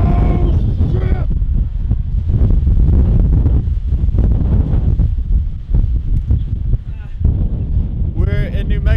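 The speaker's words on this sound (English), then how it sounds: "It's so cold. And it's windy." Heavy, cold wind in New Mexico buffets the microphone in continuous loud gusts, with voices talking intermittently over the roar.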